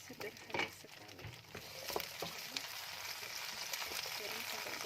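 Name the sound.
onion and garlic frying in a pan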